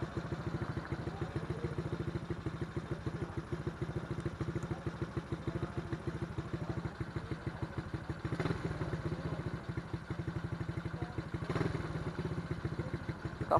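A modified motorcycle engine on a night ride runs with a steady throbbing rumble throughout, close and continuous, swelling slightly a couple of times as it accelerates.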